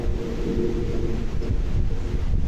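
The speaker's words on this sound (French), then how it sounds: "Alors ça, c'est du vent martien" Martian wind picked up by a seismometer on Mars and sped up into the audible range, a steady low, breathy rumble with a soft hiss above, faint and unchanging throughout.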